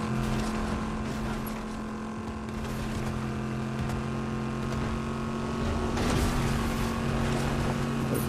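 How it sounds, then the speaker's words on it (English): A loud truck engine in a video game drones steadily and close, a constant low rumbling hum with slight rises in intensity throughout. "It's partially you and it's partially the truck because it is loud."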